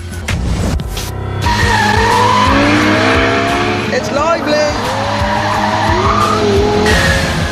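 A Lexus LFA supercar driven hard on a track in Forza 4, with loud, sustained tire squeal and skidding over a revving engine, close and continuous, while someone talks.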